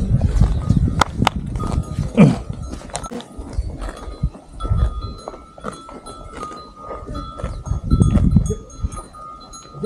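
Banni buffalo at a farm in Nakhatrana, Kutch, heard as shuffling livestock noises and low grunts with rustling and handling sounds, fairly close, without clear speech.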